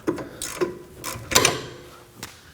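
Wrench working on a rear brake caliper bolt of a 2011-2016 Kia Optima: a series of close metallic clicks and ratcheting knocks, with one louder creak-like burst in the middle, no speech.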